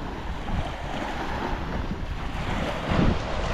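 Sea waves wash up on a beach in Egypt in December, a steady rushing surf with wind buffeting the microphone and a slightly stronger wave surge near the end.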